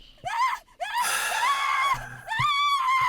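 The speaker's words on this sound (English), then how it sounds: "Siobhan lets out an ear-piercing scream." A woman lets out a long, ear-piercing scream at a tabletop fantasy game session, with short sharp cries before and after it, loud and close.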